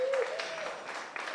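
Applause from an audience at a 4-H swine carcass show for first-place exhibitors, a short steady burst of clapping with a whistle at the start and faint crowd murmur.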